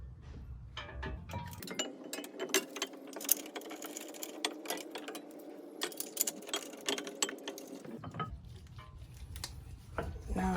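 A ratchet tightening brake line bolts on a 2015 Lexus IS250 during a front Brembo caliper install, making steady rapid clicking with metallic clinks, close and continuous for several seconds.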